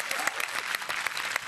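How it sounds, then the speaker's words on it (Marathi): Crowd applause for Sandeep, a dense steady patter of many hands clapping together with a few louder claps, continuous throughout. "वा संदीपसाठी खरंच जोरदार टाळ्या"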